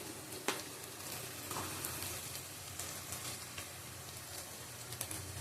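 Garlic paste, turmeric and spices sizzle steadily in a hot pan, a close continuous frying hiss broken by occasional stirring scrapes and light clicks.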